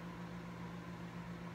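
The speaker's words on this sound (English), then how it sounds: "I'm going to start my microwave." A microwave oven runs while warming cocoa butter for bubble frosting, giving a steady, even, low hum close by with nothing else heard.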